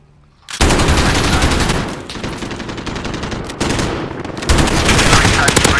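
Sustained light machine gun fire in the video game Modern Warfare, loud dense bursts of rapid shots that run nearly continuously for several seconds after a brief quiet start.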